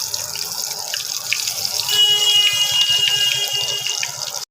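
Pumpkin flower fritters fry in hot oil for a Bengali recipe, giving a steady hissing sizzle with small crackles that swells louder midway and then cuts off abruptly at the end.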